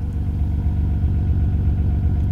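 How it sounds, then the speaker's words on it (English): Exhaust of a 1990 Nissan Skyline GT-R, a USA-import Japanese auction car, idling in a steady, deep, near rumble throughout with no talk. "Exhaust sounds awesome."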